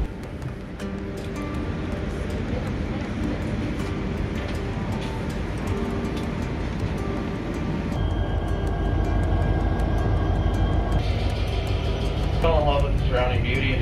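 A passenger train runs through Alaska near Wasilla, giving a steady, close rumble and rattle of wheels and cars that holds level and grows slightly fuller partway through.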